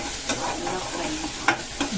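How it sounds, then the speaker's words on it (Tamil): Onion, green chili, ginger garlic paste and tomato frying in a pan for a fish fry meal, a steady close sizzle broken by a few sharp stirring scrapes, with no talking. "இஞ்சி பூண்டு பேஸ்ட்டு, தக்காளி கொஞ்சம் நல்லா ஃப்ரை ஆகட்டும்."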